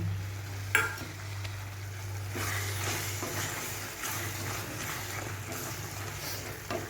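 Chicken vorta mixture with chopped egg is stirred in a hot pan, a soft continuous scraping and gentle sizzle with a few louder clanks of the spoon over a steady low hum.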